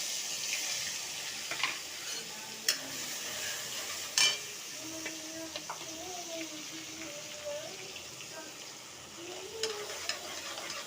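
Ginger-chili paste and asafoetida sizzle in hot oil for aloo paratha, a steady crackling hiss with a few sharp clicks of stirring and faint voices in the background.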